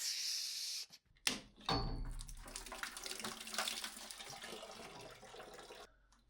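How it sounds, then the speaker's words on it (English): Water gushes steadily from a tap after a few knocks and clunks, a broadband rushing that runs for several seconds, then cuts off abruptly. "We turn the water on here."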